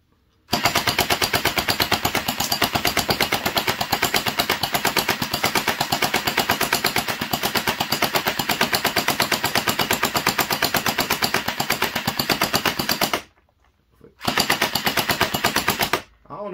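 A mini AK-47 gel blaster fires on full auto in a long, dense, unbroken stream of rapid clattering shots, loud and close. A short pause follows, then another burst of rapid fire.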